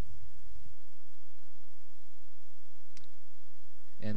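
A couple of quick computer mouse clicks save a downloaded stock price history file. The clicks are faint and sparse, one soft tick followed near the end by a sharper click, in an otherwise quiet room.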